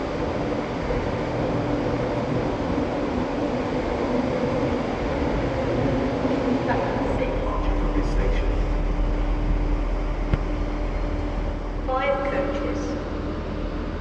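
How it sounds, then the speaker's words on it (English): A five-coach passenger train sits at a railway station, giving off a steady, loud, low rumble with a deeper hum building in the second half and a few sharp clicks near the end. "This train has 5 coaches."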